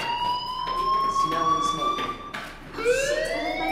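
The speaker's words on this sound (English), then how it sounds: "do you hear that fire alarm? That means you should be outside." A school fire alarm in Life is Strange, a loud high electronic tone that sweeps and sustains steadily, then restarts with a rising pitch, heard close, with brief talking in the background.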